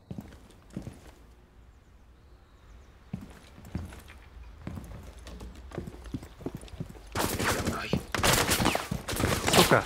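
Gunfire in Rainbow Six Siege: scattered footstep-like knocks and clatter, then near the end dense bursts of rapid automatic fire, loud and close, with brief voices in between.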